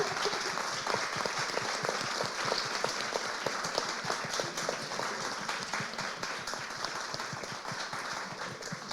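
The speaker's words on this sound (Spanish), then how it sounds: "Pido un aplauso, por favor." Sustained audience applause fills a hall after a Chilean film-making talk, a dense steady wash of many hands clapping at moderate distance, fairly faint and unbroken throughout.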